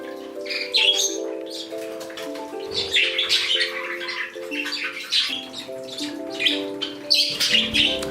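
Several cockatiels, including a 12-week-old chick meeting the flock, chirp and squawk indoors in a busy overlapping chorus of shrill calls and whistles, close and continuous.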